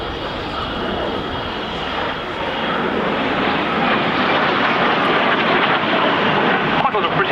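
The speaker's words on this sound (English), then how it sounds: "Now the two aircraft coming in for an opposition run this time." Two BAC Strikemaster jet aircraft make an opposition pass at an air display, a broad steady engine roar that swells and holds loud for several seconds, with faint commentary talk beneath.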